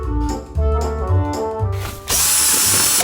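Cordless electric screwdriver whirring in short bursts of changing pitch, then a longer steady run, close and loud, with no speech.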